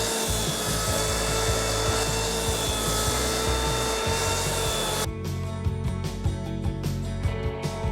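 Edge sander with a 6-inch disc removing old coatings around the perimeter of a wood floor, giving a loud, continuous abrasive whir with rough grinding pulses and a shift in tone partway through.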